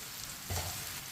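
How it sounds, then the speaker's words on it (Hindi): Fried okra tipped into spices cooking in a pan and stirred, a short burst of sizzling and scraping that swells briefly and then settles into a low hiss. "अब इसमें फ्राई की हुई भिंडी डाल लेंगे"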